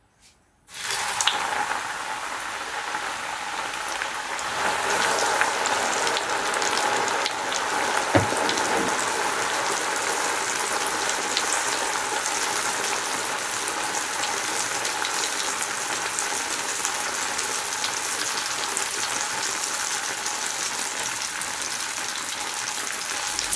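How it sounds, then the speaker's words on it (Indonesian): Battered chicken drops into very hot oil and fries with a loud, dense, continuous sizzle and crackle that holds steady from start to finish. "aku panasin minyak untuk menggoreng ayam tepungnya ya teman-teman. Ini minyaknya bener-bener panas"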